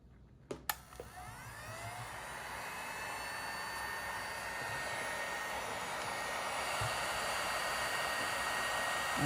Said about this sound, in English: As soon as I use my heat gun to do these last 3